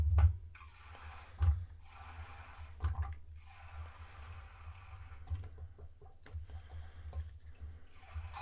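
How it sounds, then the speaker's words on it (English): Water poured into a small laboratory turbine boiler, heard as faint, intermittent splashing and dripping with a few brief louder gushes over quiet background. "Got some water into it."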